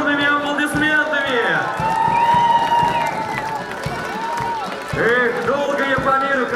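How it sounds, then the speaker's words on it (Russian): A lively crowd at a children's fairy-tale games event in Kirov claps and cheers throughout while voices shout and call over the noise, with whoops rising near the end. "Давайте поприветствуем нашу колонну бурными аплодисментами"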